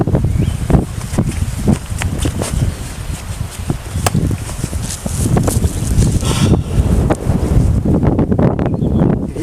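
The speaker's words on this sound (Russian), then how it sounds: "Ветер на улице идет, вот теплый ветер." Gusty warm wind buffeting the microphone outdoors in a spring forest, irregular low rumbling blasts with rustling, close and fairly loud throughout.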